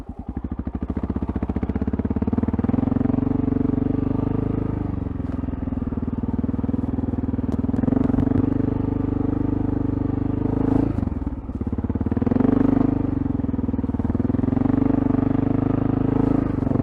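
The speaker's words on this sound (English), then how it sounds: "We're going to take off in first gear and just kind of putter through this sand." A Honda XR650L dual-sport motorcycle putters in first gear through deep sand, its single-cylinder engine a steady, loud, close drone with slight surges and dips throughout and no voices.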